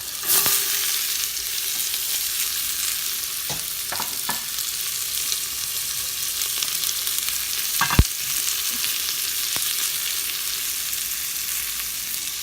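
Chopped shallots and fennel sizzle steadily in a pan for lobster bisque, a loud continuous hiss broken by a few utensil taps and one sharp knock.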